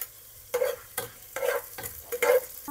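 Garlic dropped into hot oil for a pasta sauce, with a quiet sizzle broken by several distinct bursts of stirring and spatula scrapes at irregular intervals.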